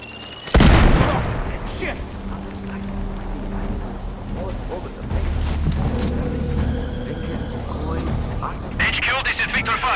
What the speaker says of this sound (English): Explosion heard, location unclear, awaiting orders.